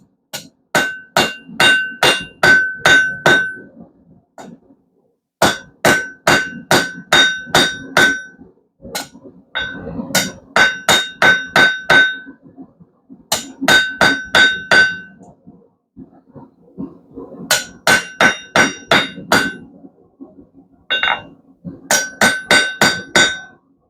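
Heated steel for a steak flipper is hammered square on an anvil in bursts of rapid, ringing metallic strikes, loud and close, with brief pauses between series of blows.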